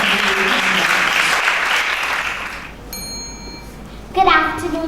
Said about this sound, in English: Please give a round of applause as she comes to you.